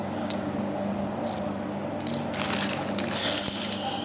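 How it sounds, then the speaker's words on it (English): Indian 1 rupee coins clink as they are handled and dropped during an unboxing, with several sharp metallic clicks and a brief jingle scattered over a quiet room. "So these are 1 rupee coins."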